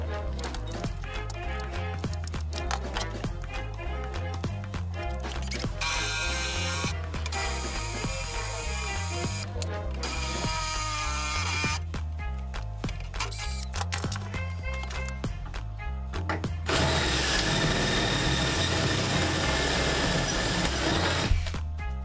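A battery drill fitted with a wood bit works to remove a part, giving a loud, continuous ratcheting, clattering mechanical whir with repeated bursts and pauses, then a steadier spin near the end.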